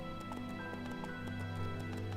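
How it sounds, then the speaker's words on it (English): Horse hooves clop in a quick, steady rhythm while riding in the EverQuest 2 video game, faint under a constant droning game soundtrack. "We're just riding the horse."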